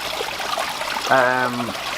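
Water trickles over a rebuilt stone waterfall spillway into a deep garden pond, a steady close hiss and babble. A short voiced tone rises briefly over it partway through.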